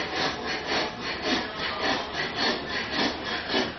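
Wood is shaped by hand on a street along the Silk Road, a steady back-and-forth rasping like sawing or filing that repeats in even strokes about twice a second, close and fairly loud with no talk.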